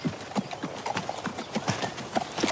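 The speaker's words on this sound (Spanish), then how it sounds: "Es un caballo fantástico." Horse hooves clip-clopping at a steady walking pace, a string of light, fairly faint knocks that repeat evenly throughout, with a soft background hum and no clear talk.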